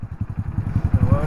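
A Hero Splendor Plus Xtec 2.0 motorcycle from 2025 pulls away nearby, its single-cylinder engine putting out a steady, rapid low thudding beat as it gathers pace.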